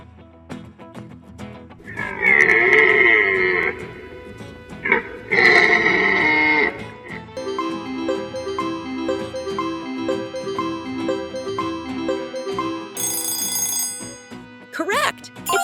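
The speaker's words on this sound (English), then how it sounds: "Correct! It's a deer!" A deer call sounds twice, loud and drawn out with a nasal, bleating tone, then a plinking tune and a short bright chime follow.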